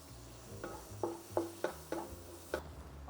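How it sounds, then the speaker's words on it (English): Garlic and shallots go into a hot pan for pineapple fried rice, giving a series of about six soft stirring scrapes and knocks against the pan over a faint sizzle, with no talk. "Pan is ready. I'm going to put in the garlic and the shallots."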